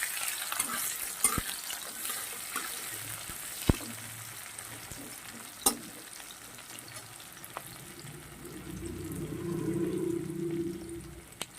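Onions sizzling in oil in a pan with panch phoron, a steady frying hiss with occasional sharp clinks and stirring scrapes, close and moderately loud, no talking.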